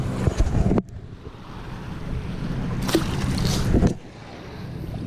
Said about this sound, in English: This wind is just, it makes it extremely difficult to not just fish, but more importantly, be safe.